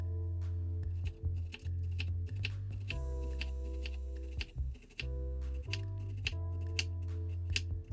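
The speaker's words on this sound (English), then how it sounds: "We'll dice 1 sweet Vidalia onion" A knife dices a sweet Vidalia onion on a cutting board, a steady run of crisp, rapid taps close by over soft background music.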